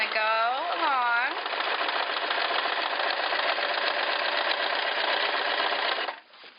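A sewing machine stitches fabric in a steady, close, continuous whir that runs for about six seconds before stopping, with a brief higher voice-like sound at the start.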